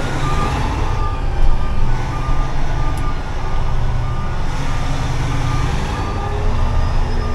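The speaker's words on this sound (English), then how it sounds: "why does this truck sound weird? I gotta shut the PTO off." Lowbed truck idles with its power take-off engaged, a steady heavy diesel rumble with a faint repeating beep over it, heard from inside the cab.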